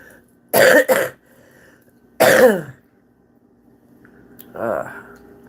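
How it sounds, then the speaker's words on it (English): Several harsh coughs nearby: a quick double cough, another single cough, then a softer one after a pause. "Just when you think the cough is going away."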